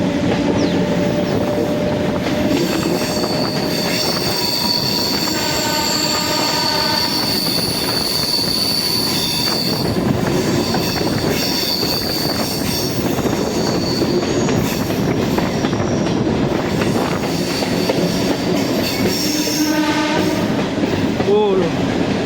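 A train horn sounds over a steady, loud rumble of rolling rail cars, with metallic wheel squeals and clattering throughout.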